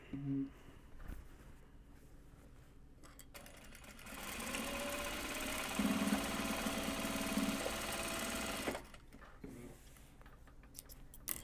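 A sewing machine runs for about five seconds mid-clip stitching a bag seam, a close steady whirring hum that starts and stops abruptly, with quieter handling noises before and after.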